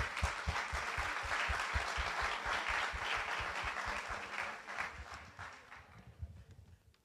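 A seated audience at a Portuguese arts and letters panel applauds the event sponsors, sustained crowd clapping with a rhythmic beat running underneath that gradually tapers off.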